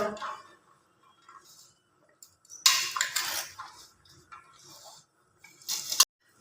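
Boiled peanuts are scooped from a pot onto a plate in a home kitchen, giving a few bursts of rattling, scraping clatter separated by quiet pauses, close and moderately loud.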